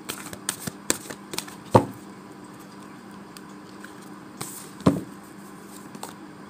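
Tarot cards are shuffled by hand before a single card is drawn, a soft papery patter broken by two sharper riffle snaps, close and quiet with no talking.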